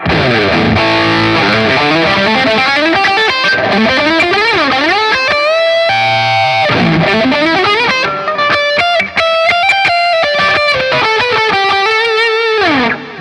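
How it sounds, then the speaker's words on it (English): An electric guitar through a Line 6 Helix Floor amp preset with distortion plays loud sliding and bending phrases, with thick, gritty sustained notes and no voices. "So classic distortion is back on"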